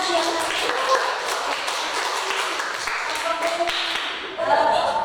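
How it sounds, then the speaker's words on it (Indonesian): Classroom applause from students, a sustained patter of many hands clapping at close range, fairly loud and even throughout with a brief swell near the end. "Beri aplaus dulu biar semangat."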